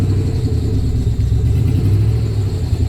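A Chevrolet Tahoe engine idles rough just after an oil pump replacement, with a steady low rumble and slightly uneven pulsing, loud and close, with no talk.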